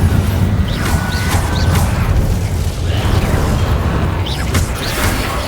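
Loud spell effects in the Hogwarts Legacy game, a continuous roaring rumble with several sharp bursts and crashes layered over a mechanical drone.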